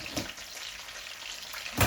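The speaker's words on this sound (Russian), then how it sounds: "еще минутки 2 вот эту сторону прожарю, и все" Steady, soft sizzling of red pepper frying in a pan, a constant hiss with a brief louder burst near the end.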